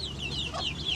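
Hens on a rooftop cluck close by in short, brief calls over a low farmyard background, with no talk.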